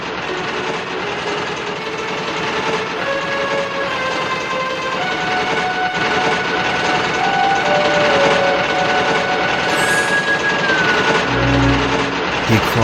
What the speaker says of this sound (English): Then the diesel went on and left.